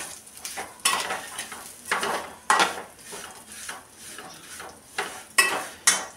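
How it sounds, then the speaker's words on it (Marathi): Vermicelli being stirred and roasted in ghee in a pan over low heat, with repeated sharp scrapes and clinks of a spoon against the pan over a soft sizzle, bursts coming every second or so. "शेवया छान परतून घ्यायच्या"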